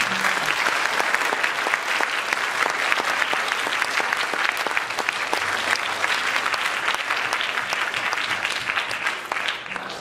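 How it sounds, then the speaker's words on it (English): A school band festival audience applauds the adjudicators with sustained, loud, even clapping from a large crowd, holding for the full ten seconds without a break. "Can you guys give him a round of applause?"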